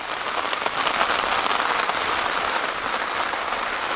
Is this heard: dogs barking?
no